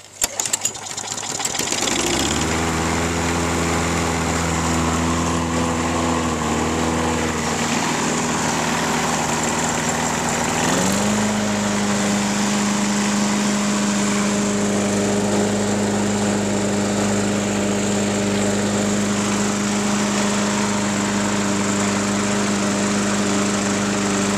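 A K-Gro Power Pro gas lawn mower engine, previously seized, sputters, catches after a pull and settles into a steady, loud droning hum, shifting pitch slightly partway through and running continuously.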